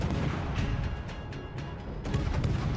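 Naval gunfire from a battleship in a warship video game: distant booming shots with short sharp bursts over a continuous low rumble, without talk.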